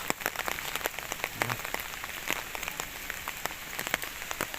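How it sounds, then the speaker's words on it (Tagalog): Rain falling on surfaces at a parking area in Sampaloc, Tanay, Rizal, a dense, steady patter of drops with sharper individual hits, continuous and close. "Kahit maulan, no?"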